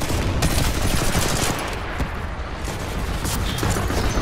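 Sustained heavy gunfire in Titanfall 2 as players shoot at a Titan, a dense, loud rattle of rapid shots that continues throughout with no pauses.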